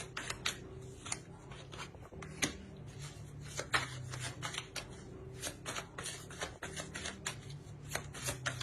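Tarot cards are shuffled and handled close by, a rapid run of crisp flicks and riffling snaps with brief pauses, no talking over it.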